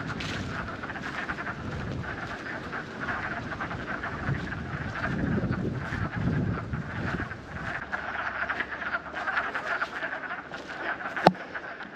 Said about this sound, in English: sign of spring once the wood frogs start croaking away, calling for their mates